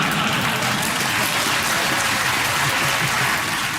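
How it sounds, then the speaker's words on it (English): Studio audience on a British topical comedy panel show bursts into continuous, dense applause, loud and even throughout with no speech over it. "Young people applauding."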